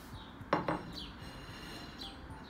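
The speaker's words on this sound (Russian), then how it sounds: "Я, пожалуй, поставлю общую тарелку и десертную." Plates, a main plate and a dessert plate, are set down on a table being laid for an Eid al-Adha holiday meal, giving two quick close clinks over a steady quiet room hiss with faint bird chirps.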